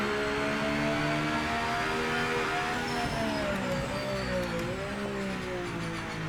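A hypercar in Project Motor Racing drones with a steady, loud engine tone shifting slightly in pitch, while a thin high screeching squeak whines faintly in the background.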